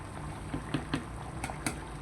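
Rice bubbling and boiling over in a pot on a home stove, a low steady seething with scattered soft pops and spits, fairly faint and close, with no talking.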